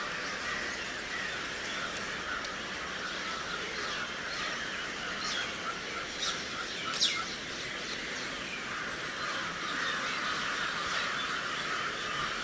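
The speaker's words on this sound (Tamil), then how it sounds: "அவ்வளோ காக்கா உண்டு, எண்ணவே முடியாது." Countless crows cawing at once in a big noisy flock, with sharper individual caws popping out over a constant dense chorus of calls, fairly loud and steady.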